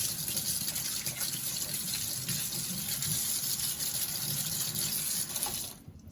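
Water runs steadily over a metal part as it is rinsed during a dye penetrant inspection, a continuous close splashing rush that fills the whole stretch before cutting off sharply at the end.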